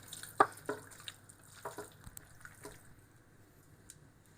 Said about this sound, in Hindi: एक अदद लेमन निचोड़ लेंगे और इसको मिक्स कर लेंगे अच्छे से।